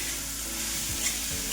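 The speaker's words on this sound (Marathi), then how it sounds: "आता हे आपल्याला छान तेलावरती परतून घ्यायचं आहे" Radish seed pods with salt and coriander sauté in oil, a dense continuous hiss of frying with faint soft stirring movements, close and steady over a brief stretch, without speech.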